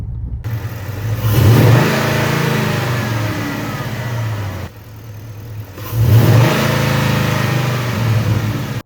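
A Gen 1 Ford Raptor fitted with a K&N cold air intake roars through two strong accelerations, the engine note swelling then easing back to a lower steady drone between them, loud and near with no voices.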